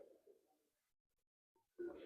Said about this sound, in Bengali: প্রচন্ড চঞ্চল পায়রা, ছটফটে।